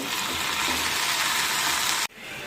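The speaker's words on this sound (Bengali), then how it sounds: "মসুর ডালটা দিয়ে দিচ্ছি, ভালো করে একটু নেড়ে লাল লাল করে নেব।" Red lentils fry and sizzle in a pan while being stirred, giving a loud, steady hiss that cuts off abruptly near the end and drops to a quieter background.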